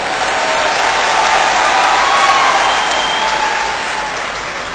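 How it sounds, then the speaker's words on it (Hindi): Audience at a political speech breaking into loud, sustained applause, a dense wash of clapping that swells and holds steady for several seconds before easing slightly. "ताली बजाओ तो फिर अच्छे ढंग से बजाओ"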